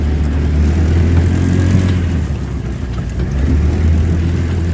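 A GY6 150cc buggy engine with stock exhaust runs loud and close, holding a steady low drone with slight rises and dips as the buggy drives along.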